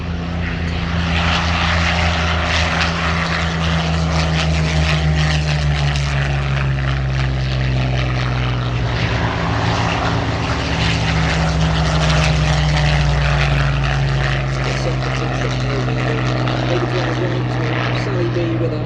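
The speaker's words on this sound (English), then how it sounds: "You can now see the two Buchons rolling down runway 21." Two Hispano Buchon propeller aircraft roll down the runway at the Sywell Airshow, giving a loud, steady, droning engine roar that continues throughout without a break.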